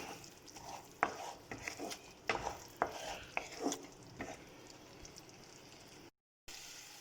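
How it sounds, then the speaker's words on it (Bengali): Ginger garlic paste frying for dum aloo, stirred with a utensil: a soft background sizzle under repeated sharp scrapes and taps against the pan in an uneven rhythm, fairly quiet overall. "মিশিয়ে আরও 2 মিনিটের মতন এগুলোকে ভেজে নিচ্ছি।"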